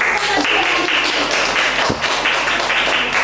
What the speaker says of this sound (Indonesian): Baik, tepuk tangan.